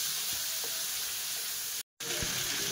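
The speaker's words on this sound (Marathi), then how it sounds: "मीठ, बटाटा, एवढं आपल्याला जरा तेलामध्ये चांगलं फ्राय करून घ्यायचंय।" Salt and potato pieces frying in hot oil, a steady close sizzle running throughout with a brief drop to silence near the end before the hiss resumes.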